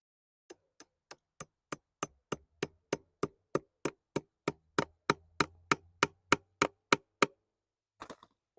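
Hammer taps on a clamp for drip irrigation tubing in a raised garden bed, about twenty sharp, evenly spaced knocks in a steady rhythm, then a brief scuffle at the end, with no voices.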